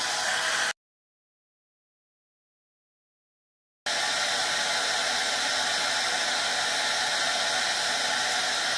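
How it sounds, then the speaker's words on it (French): A hair dryer blows on hair with hair-system glue: a steady, loud whooshing hum that cuts out to total silence for about three seconds, then resumes just as strong. "Sans sèche-cheveux, vous prenez minimum 10 minutes à laisser sécher."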